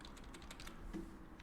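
Soft, faint key presses and a click on a computer keyboard and mouse while retouching photos in Photoshop, a few quick taps close to the microphone in a quiet room.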